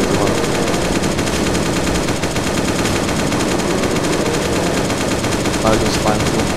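Sustained machine gun fire in the survival game Last Day on Earth, a loud, unbroken rattling stream held down continuously with no pauses.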